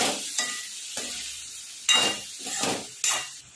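Bottle gourd and potatoes being stirred in a pan, with repeated scraping strokes over a soft sizzle, close by and fairly loud, no voices.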